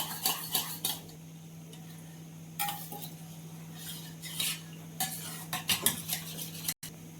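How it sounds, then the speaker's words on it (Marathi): Creamy full-fat curd whisked in a bowl with a spoon, giving irregular clinks and scraping strokes in bursts, fairly close and moderately loud, with a steady low kitchen hum underneath. "जरा दही फेटून घेऊया।"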